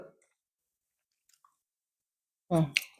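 A pet crunches dry kibble close up, with a few faint isolated bites in near silence and then a louder burst of chewing and crunching at the end, which may carry a short voice.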